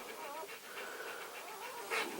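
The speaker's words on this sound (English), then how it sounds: "You could hear the puppies." Newborn puppies whimper and pant softly in a continuous, faint, high-pitched stream of small cries, close by, with a slightly louder squeal near the end.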